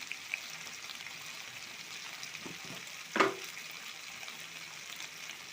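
Okra frying in a pan with turmeric, giving a steady low sizzle throughout, with one brief louder crackle partway through and no voices.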